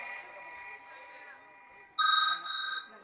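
A telephone rings with a bright electronic trill that starts abruptly and repeats in two quick pulses, following faint earlier ringing, in a village stage drama scene.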